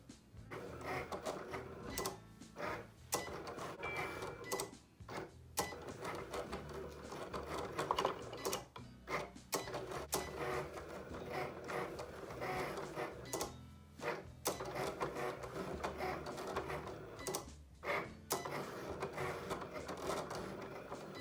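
A Cricut Explore Air 2 cutting machine runs nearby, its motor whirring in bursts with brief pauses as the carriage moves back and forth over a steady, repetitive mechanical hum.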